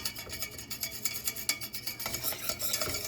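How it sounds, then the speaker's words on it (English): A spoon stirs a pot over medium heat, making repeated close scraping and swishing strokes in a quick, uneven rhythm with a faint sizzle underneath, no voices. "You gotta keep stirring and stirring and stirring."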